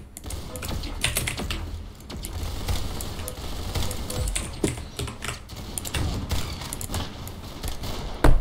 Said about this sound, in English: This weapon shoots so slow. It's like a Mosin but better.